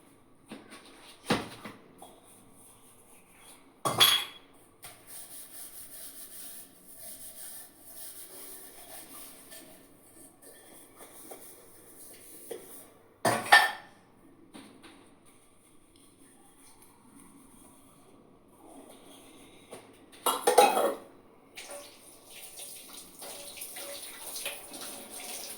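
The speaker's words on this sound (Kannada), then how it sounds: "ಪಾತ್ರೆ ಎಲ್ಲ ತೊಳೆದಾಯಿತು" Dishes and pots being washed at a home kitchen sink, with running water throughout and a few louder splashes or clatters standing out now and then; no talking.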